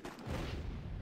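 A cannon in a video game fires once, a faint low boom with a short rumbling tail.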